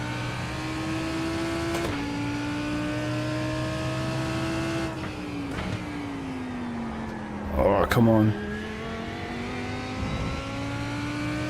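Race car engine in the iRacing sim holds a steady droning tone with gear-change shifts in pitch and a brief loud burst near the middle, close and continuous under a short spoken remark.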